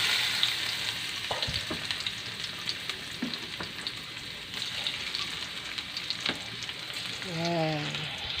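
Garlic sautéing in a pan for ginisang upo with sotanghon, a steady close crackling sizzle with occasional stirring scrapes, and a brief voice near the end.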